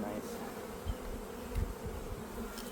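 Honeybees hum in a low, steady buzz from a full-size colony's hive opened up for a spring split, with a few soft thumps of handling close by.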